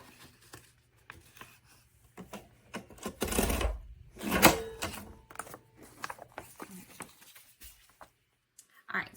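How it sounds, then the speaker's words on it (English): A TIANSE electric spiral coil binding machine punches a stack of pages, giving a few loud mechanical clunks and whirs in the middle, with quieter rustling and handling around them and a voice talking at times. "now that all of my pages are fully punched"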